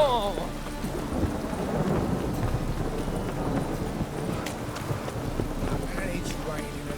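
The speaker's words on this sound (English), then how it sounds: "It's raining again." Rain patters steadily in The Witcher 3 video game while low thunder rumbles beneath it, and game characters' voices speak over the storm.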